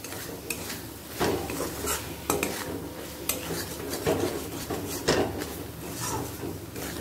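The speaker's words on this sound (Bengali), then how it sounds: "এবার ভালো করে কষিয়ে নেব।" Shrimp curry with coconut being stirred and sautéed in a pan over a medium flame, with repeated scraping and clacking of a spatula against the pan over a low background sizzle.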